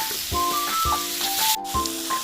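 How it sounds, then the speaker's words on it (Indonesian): Carrots, broccoli and green beans are stir-fried with shrimp in a pan, giving a steady close sizzle with bursts of stirring and some tonal sounds layered over it. "Masukkan brokoli dan buncis, aduk hingga rata."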